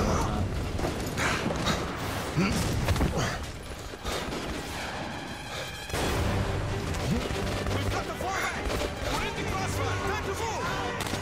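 Gunfire from the video game Metro Last Light, dense bursts of shots and mechanical clatter mixed into busy game sound, with a voice talking over much of it.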